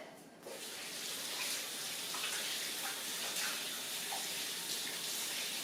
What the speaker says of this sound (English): Wash my hands off here